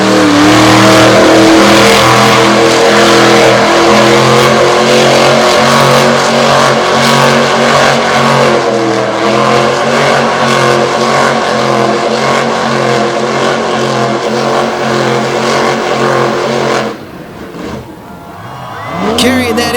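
A monster truck engine roars continuously at high revs during a stoppie at an outdoor arena show, loud and close with shifting pitch, then dropping off sharply near the end, while an announcer commentates over it.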